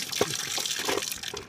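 Water gushes and splashes as it is poured into a tin container used for catching fish, a steady close pour with a few sharper splashes, no talking.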